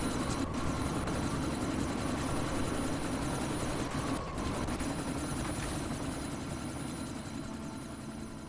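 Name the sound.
helicopter in the video game Deus Ex: Mankind Divided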